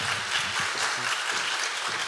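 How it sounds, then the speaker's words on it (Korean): A church audience at a mothers' prayer meeting gives warm, continuous applause welcoming a speaker to the front, a dense, even wash of many hands clapping together for the whole stretch. "우리 박사님 나오실 때 큰 박수로 환영하겠습니다."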